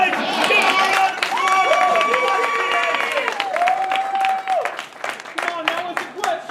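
A crowd at a furry convention performance claps and cheers loudly, with whoops and shouted voices riding over the dense applause before it breaks up into scattered claps.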